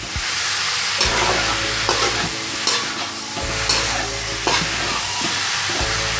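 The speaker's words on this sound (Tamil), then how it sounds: "இப்போ இதை போட்டு நல்லா கிளறி விடலாம். நல்லா இந்த பூண்டு, இந்த வெங்காயம், இந்த சிக்கன் எல்லாம் நல்லா மிக்ஸ் ஆகணும்." Chicken pieces with garlic and onion stirred in a hot frying pan for Pallipalayam chicken, a continuous loud sizzle with repeated knocks and scrapes of the spatula against the pan, no voices.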